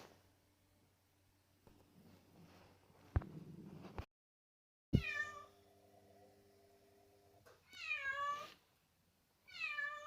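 Cat named Félix meowing indoors, a few clear close meows with pauses between them after some quiet handling noises and a brief dropout.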